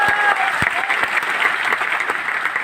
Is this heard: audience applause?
yes